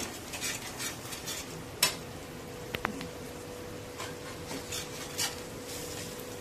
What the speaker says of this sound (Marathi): आता याला परतवून घेऊया।